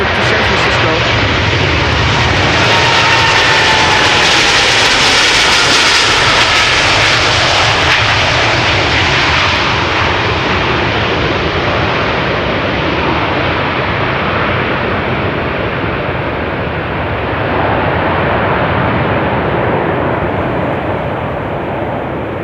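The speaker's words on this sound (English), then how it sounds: "KLM Flight 605, 78710, Dreamliner to San Francisco." A KLM Boeing 787-10 Dreamliner departs Amsterdam Schiphol Airport, its engines roaring loudly up close in a broad, sustained rush that slowly fades as the jet pulls away.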